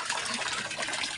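Water gushes steadily from a tap as a four-year-old child washes dishes, a close, continuous splashing pour lasting about a second with no voices.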